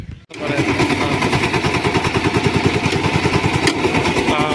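Small petrol engine of a new power weeder farm machine, rated at 130, running steadily after a brief cutoff at the start, a loud, close, rhythmic chugging throb alone with no talking.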